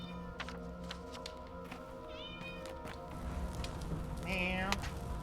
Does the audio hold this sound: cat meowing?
yes